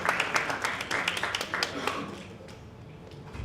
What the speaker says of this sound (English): I want you to give her a very big applause